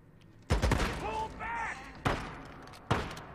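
Heavy gunshots in the game Days Gone, three sharp, loud blasts spaced about a second apart, the first followed by a ringing tail, with a voice briefly heard between them.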